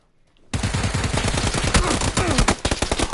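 Dense automatic gunfire in PUBG on PS4 bursts in after a near-silent moment and roars on continuously, loud and close, with rapid overlapping shots and brief flutters near the end.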